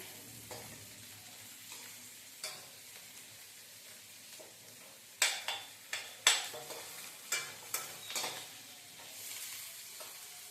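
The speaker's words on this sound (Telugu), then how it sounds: "కొంచెం అది నూనెలో లైట్గా వేగితే సరిపోతుంది." Onions fry lightly in oil for a simple bottle gourd dal, a faint soft sizzle broken by a series of sharp spatula scrapes and taps, louder in the second half.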